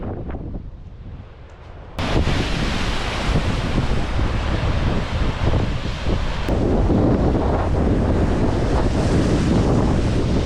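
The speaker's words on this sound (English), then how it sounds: "the waves crashing onto the rocks like that" Massive ocean waves crash against the cliff face and rocks at Worm's Head, a loud, steady roaring surf mixed with heavy wind buffeting, surging harder after a brief quieter start.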